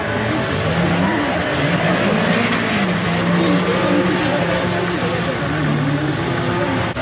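Drift cars at a 2023 drift championship final accelerate along the first straight, a loud sustained engine roar with rising and falling pitch sweeps that blends into constant crowd and track noise.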